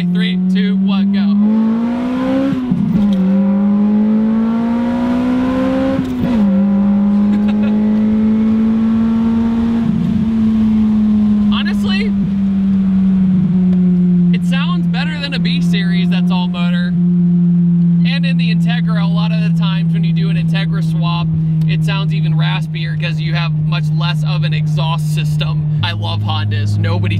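An Acura RSX Type S accelerates hard, its engine note climbing through the revs in several long pulls with brief dips at each gear change, loud and close from inside the car, with a person talking over it.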